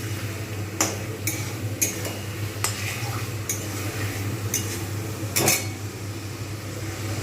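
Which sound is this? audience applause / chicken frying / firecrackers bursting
chicken frying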